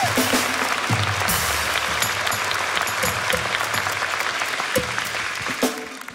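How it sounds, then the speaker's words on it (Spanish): A studio audience at a live comedy talk show applauds loudly and steadily for several seconds, a dense wash of clapping that fades slightly toward the end, with a few scattered voices within it. "Un fuerte aplauso para Haití."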